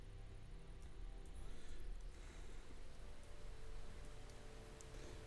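Steady Minecraft rainfall, a faint, even hiss of drops continuing throughout with no breaks and no voices.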